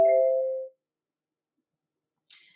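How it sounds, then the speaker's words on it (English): A single bell rings once indoors with a clear ringing tone that decays within a second, followed after a pause by a brief faint rustle. "Sorry, that was the bell."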